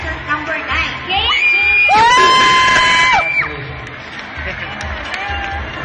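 A crowd at a children's pageant grand final screams, shrieks and cheers loudly for a girl contestant, with high-pitched squeals peaking in the middle and voices shouting throughout.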